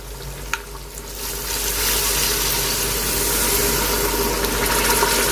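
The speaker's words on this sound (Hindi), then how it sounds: "अब मैं इसके अंदर ऐड कर रही हूँ 1 गिलास पानी।" A glass of water hits frying masala in a hot pot of nihari and breaks into a loud, steady sizzle that keeps hissing evenly, with a brief clink near the start.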